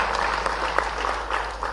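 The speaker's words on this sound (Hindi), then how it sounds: "जोरदार ताली बजा" Audience at a Bhopal government event honouring MSME industries applauds loudly, a dense steady wash of clapping that holds for the whole stretch with no voice on top.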